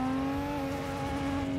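Nissan Skyline GT-R R34 engine in Assetto Corsa holding a steady, loud turbocharged drone with strong harmonics, rising slightly in pitch, continuous without pause.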